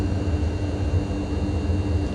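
Mitsubishi MU-2 turboprop in Microsoft Flight Simulator roaring steadily in reverse thrust on the runway after a hard landing, a dense, loud broadband rush with low engine drone throughout and no voices.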